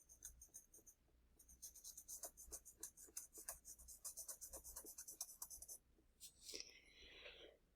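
A 2H pencil shades drapery on paper in a steady run of soft, close scratchy strokes, pausing briefly, then ending with a few lighter rubs, faint and without talk.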